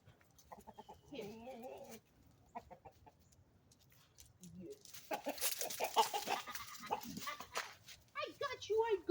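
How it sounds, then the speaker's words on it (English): A rooster on a ranch clucks and squawks as he is grabbed and handled, with loud, agitated bursts crowding the second half and a person talking quietly and close in between. "I need to grab you, Rooster, Rooster. I don't want him to run when I grab him"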